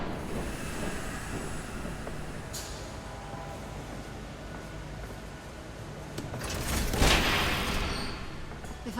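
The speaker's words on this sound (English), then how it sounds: "There's a train coming." A train in the Batman Telltale video game rumbles past with steady broadband roar, swelling to a louder hissing rush near the end.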